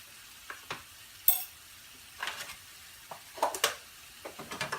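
Butter melting in a pan with liver, stirred now and then: soft scattered scrapes and taps of the utensil over a faint, steady background sizzle, with no talking.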